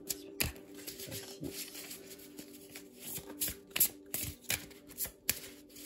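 Oracle cards being shuffled by hand in quick, irregular riffling bursts, close and fairly quiet, with no talking over them.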